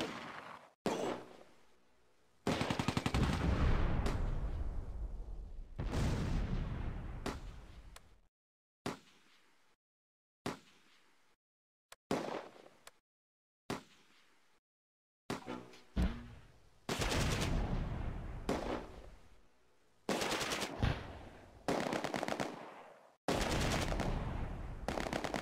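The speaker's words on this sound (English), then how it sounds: "Sergeant Ott's Bren section and the mortar target this squad." Bren light machine gun bursts and mortar fire in a World War II tactical war game, heard as repeated separate volleys of loud, sharp firing broken by short silences across the whole stretch.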